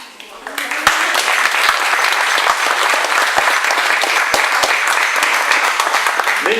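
An audience bursts into sustained applause at a lecture, a dense, loud wash of clapping that starts abruptly and continues steadily to the end.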